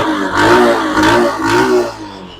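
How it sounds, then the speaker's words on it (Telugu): A TVS Star City motorcycle engine revs steadily and loudly close by, rising and falling in a few throttle surges with a rough mid-range drone and no talk. "ఇంజన్ సౌండ్ చూపెట్టండి ఒకసారి."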